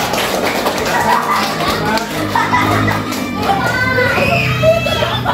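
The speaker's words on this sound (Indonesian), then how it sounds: "tepuk tangan buat kelompok juga" A classroom of children claps for a group, with scattered applause blending into lively chatter and children's voices throughout.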